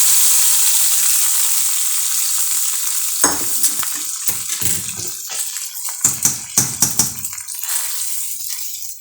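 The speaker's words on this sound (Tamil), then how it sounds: "இது அப்படியே தாளித்து இதில் ஊற்றிடலாம்" Sizzling tempering poured over sambar rice: a steady hiss of hot oil gives way to a burst of crackling and popping, then irregular spatters that fade out, close by.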